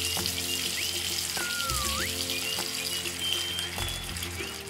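Water runs from a toy tap into a toddler doll's bath, a soft steady trickle with a few synthetic toy chimes and tones over it.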